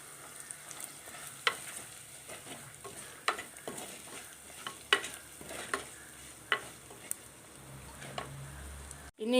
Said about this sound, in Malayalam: പൊടികളൊക്കെ മൂത്ത് നല്ല ഒരു മണം വരുന്നുണ്ട്.